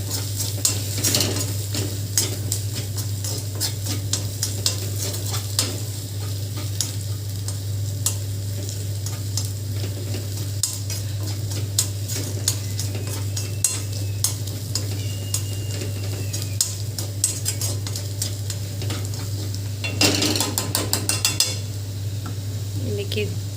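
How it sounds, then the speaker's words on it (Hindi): A homemade hair oil cooks in a pan while a utensil stirs it steadily, with scraping clinks and a soft sizzle over a low steady hum throughout, and a burst of denser scraping near the end. "इसको बीच बीच में चलाते रहिएगा, नहीं तो ये जलने लग जाएगा"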